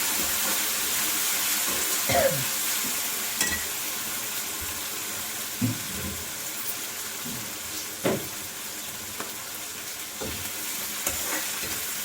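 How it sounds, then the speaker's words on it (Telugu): Prawns fry in hot oil with a loud, continuous sizzle, broken by a few brief stirring scrapes, and no one talks. "బాగా ఎర్రగా వేయాలండి రొయ్యలు"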